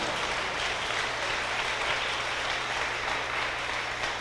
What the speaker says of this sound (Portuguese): seja um profeta contentado, e as palmas louvam a Jesus de Nazaré